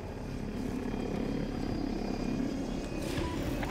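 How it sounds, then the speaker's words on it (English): Helicopter rotor and engine drone from the video game Battlefield 2042, a steady, loud, continuous roar throughout with no talking. "these helicopters are gonna murder me"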